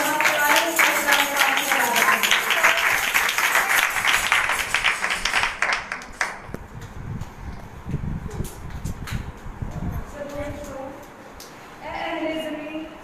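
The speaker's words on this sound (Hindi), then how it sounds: "ज़बूर 100 की चाहती के बहन के लिए जोरदार तालियां बजाएंगे" A congregation at a Sukkot worship service claps loudly and rhythmically for about six seconds, the applause then thinning into scattered claps, rustling and background voices before a brief swell of sound near the end.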